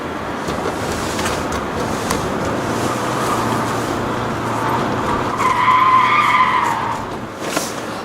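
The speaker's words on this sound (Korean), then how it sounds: "지금처럼 이 가속할 때 보면은 이 엔진 소리가 음색이 이렇게 썩 좋지가 못하죠." A Hyundai Kona 1.6 diesel engine revs up under acceleration, a steady close drone with a rising tone toward the end and some tire noise.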